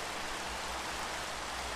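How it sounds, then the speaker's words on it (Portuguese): Steady rain summoned by a weather command in Minecraft, a soft even hiss of falling drops, faint and unbroken throughout. "Coloca aqui e vai começar simplesmente a chover"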